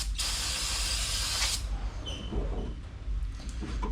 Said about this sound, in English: clean up this brake caliper by spraying it down with some brake cleaner as well